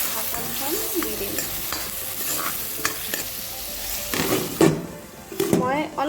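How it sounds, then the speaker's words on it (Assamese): Chopped green chillies sizzle and fry in a hot pan while being stirred, with a steady crackle and scraping strokes that grow louder near the end, a faint voice briefly underneath. "এইখিনি মই ভালদৰে মিলাই অলপ সময় ভাজোঁ"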